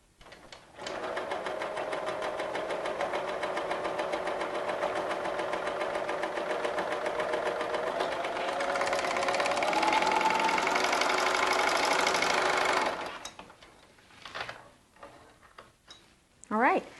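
A quilting sewing machine runs a continuous chain stitch, its steady rapid whir close and loud for about twelve seconds before stopping, followed by brief handling noises.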